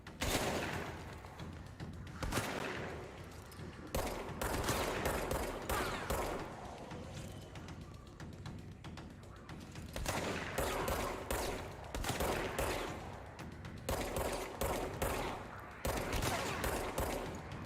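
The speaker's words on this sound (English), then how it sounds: "Seems like that guy's wielding some sort of a shotgun." Enemy shotgun fire in the video game Control, dense continuous rattling gunfire with sharp repeated blasts across the whole span, loud and busy with layered explosive hits.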